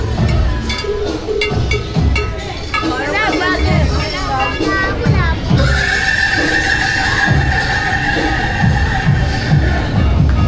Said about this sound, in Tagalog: Ba't may kabayo doon?